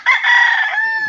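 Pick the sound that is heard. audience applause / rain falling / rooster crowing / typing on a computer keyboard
rooster crowing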